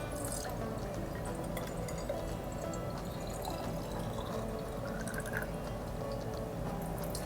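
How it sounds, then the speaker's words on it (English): Water is poured into plant containers, giving a steady, soft trickling and splashing that runs continuously without talk. "So I will pour water in all these containers."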